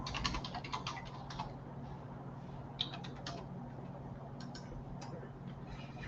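A password being typed on a computer keyboard, faint quick clicking keystrokes in irregular bursts over a low steady background hum.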